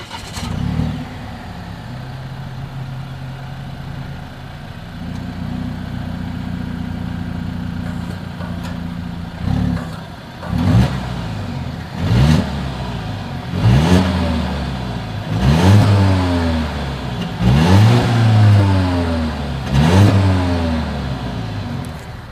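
A 2020 Volvo XC90 T6 Momentum exhaust with chrome tips idles smoothly up close, then gives a series of about seven sharp revs, each rising and falling back to idle in a steady rhythm.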